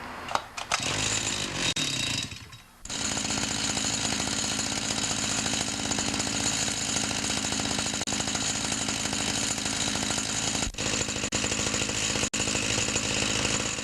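A two-stroke stand-up scooter engine, freshly fitted with a rebuilt carburetor and choke on, fires after a brief stumble and settles into a loud, steady buzzing idle that runs on close by with no talk.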